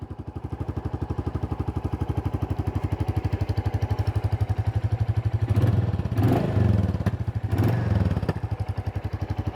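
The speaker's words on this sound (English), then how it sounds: "That classic thumper sound, 350cc, that big single cylinder, single piston firing away there." Royal Enfield Classic 350 with its 350cc single-cylinder engine idling in neutral, an even, close thumping beat that runs throughout, briefly masked by louder broadband noise partway through.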